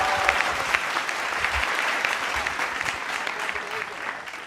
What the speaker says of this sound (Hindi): एक बार किशोर जी के लिए तालियां।